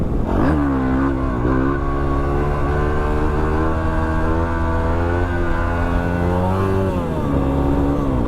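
A vehicle engine held at high revs while it pulls a wheelie on a salt pan in the Simpson Desert, a loud sustained drone that rises and dips in pitch, close and continuous.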